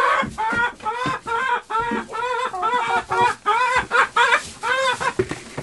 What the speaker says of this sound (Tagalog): Oh, nag-aagawan yung aking mga manok.